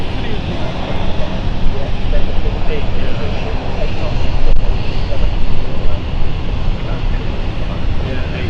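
A passenger airplane on the Dublin flight taxis at London City Airport, producing a loud, steady engine roar and whine that holds throughout with only slight swells.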